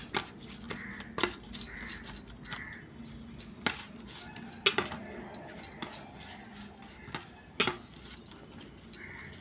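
Cutlery clinks and scrapes against a dish as food is mixed, with irregular sharp metallic taps and short scraping strokes, quiet and close, with no one talking.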